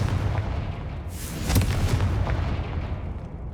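Confringo fire spell explosion in the video game Hogwarts Legacy: a single rumbling blast swells and bursts near the middle over a steady low ambient drone, then fades slowly with no talk.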